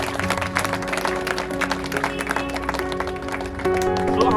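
Loud, continuous applause from a church wedding congregation, a dense wash of clapping holding steady for several seconds and swelling a little louder near the end, with some voices mixed in.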